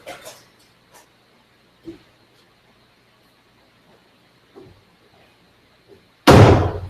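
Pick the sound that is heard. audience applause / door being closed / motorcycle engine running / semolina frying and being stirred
door being closed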